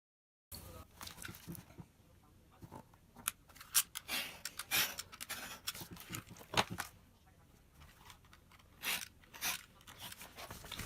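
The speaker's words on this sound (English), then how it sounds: "First I cut out the outline," Scissors or a knife cut out leather bag pattern pieces in a run of close, crisp snips and crunchy slicing strokes, irregular and separated by quiet gaps, with no voice.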